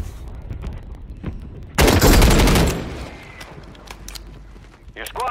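Gunfire in a Call of Duty Warzone match on Rebirth Island: a loud, dense burst of automatic shots lasting about a second, with scattered sharper single cracks before and after, and talk over the action.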